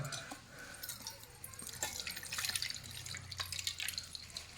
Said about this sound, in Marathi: आता पाणी वततंय